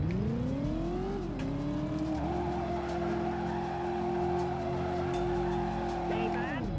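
A car spinning a full 360 in the Driver video game, with a steady engine drone and a long continuous tire squeal whose pitch rises then holds level, close and loud, with speech over it.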